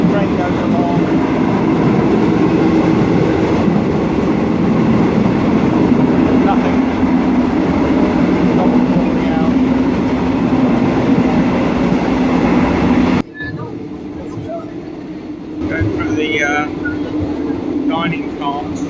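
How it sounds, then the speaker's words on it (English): Steady rumble of a sleeper train running on rails between Bangkok and Koh Samui, with a constant low drone and faint rhythmic clatter; the noise drops and shifts near the end. "The train goes along."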